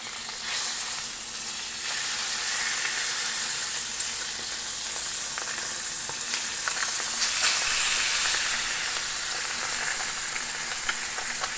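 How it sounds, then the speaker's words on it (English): Peppery Texas chicken sears in a hot pan with a loud, continuous frying sizzle and hiss, punctuated by occasional light crackles. "I'm going to turn these over for the sear on the other side."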